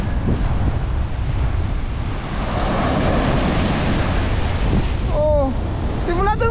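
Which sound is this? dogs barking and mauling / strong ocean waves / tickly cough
strong ocean waves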